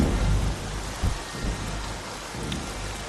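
Heavy rain pours steadily in a Telugu comedy film scene, with deep thunder rumbles swelling near the start and again around the middle, loud and close with no voices.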